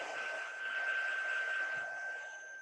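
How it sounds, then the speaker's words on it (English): A steady, breathy rush of blowing air holds throughout, like a heat tool running close by, with a faint high whine. "So if you have a heat tool, now would be the time to just apply that heat"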